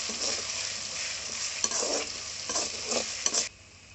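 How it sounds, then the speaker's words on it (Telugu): Ginger-garlic paste is stirred and fried in a pan, with a steady sizzle broken by several scraping stirs, close and clear, before the sizzling drops off abruptly near the end. "ఒకసారి కలుపుకొని పచ్చి వాసన పోయేంత వరకు వేపుకుందాం."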